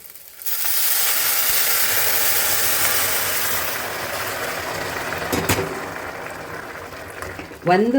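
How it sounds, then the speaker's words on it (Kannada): Heated water goes into a pan of frying spices for vermicelli pulav, setting off a sudden loud hissing rush that slowly fades to a bubbling simmer, broken later by a couple of sharp utensil knocks. "ಈಗ ನಾನು ಇಲ್ಲಿ ಕಾಯಕ್ಕೆ ನೀರಿಟ್ಟಿದ್ದೀನಲ್ಲ, ಈ ನೀರನ್ನು ಹಾಕ್ತಾ ಇದ್ದೀನಿ"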